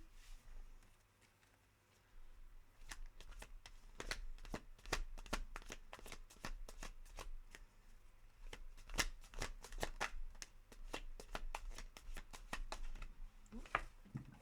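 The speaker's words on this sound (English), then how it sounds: "Don't know what's going on with my shuffling today." A deck of cards is shuffled again and again, with quick riffling bursts and soft flicks close by, in a quiet room without talking.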